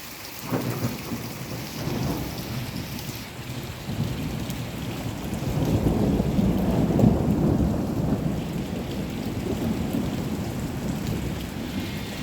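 Rain falls steadily in Quetta while thunder rolls in long, deep rumbles, swelling and fading in the middle before the downpour continues.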